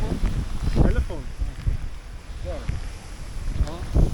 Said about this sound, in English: it's raining, it's windy, stormy, it's freezing cold